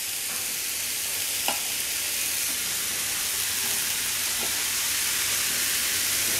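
Yardlong beans with chili stirred in a frying pan, a steady loud sizzle with occasional soft scrapes and clinks of the spatula, no talk.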